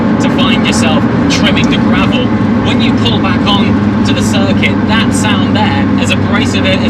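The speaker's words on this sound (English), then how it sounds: "Sticky tyres picking up lumps of grit and dirt and sending it on the inside of the wheel arches" Inside a McLaren MSO Senna rejoining the circuit after running through gravel, sticky tyres flick grit into the wheel arches as rapid rattling bursts over a loud engine drone, with someone talking throughout.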